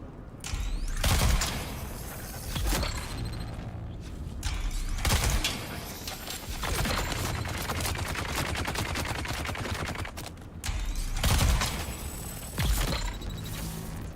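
Gunfire in the video game Dune Awakening, bursts of rapid automatic shots and single cracks in repeated clusters with short gaps between volleys, loud and close.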